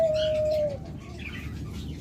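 A dove kept for sale with its young gives a clear, close coo at the start, then the call fades into quieter bird chirps and room sound.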